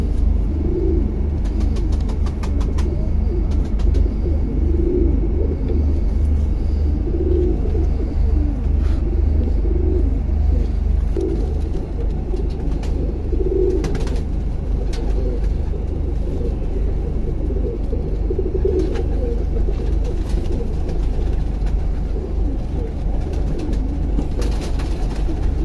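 Golden pigeons coo in a repeated series of soft, low calls over a steady low rumble of traffic, with no talking.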